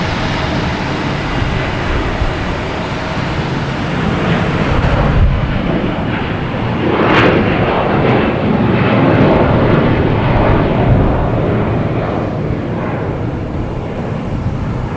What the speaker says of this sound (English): We have a Delta A321 heading to Minneapolis.